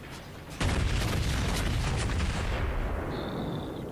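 The main guns of a New Mexico battleship fire in World of Warships, a sudden heavy boom that swells into a sustained roaring rumble, loud and dense, slowly fading with no voices over it.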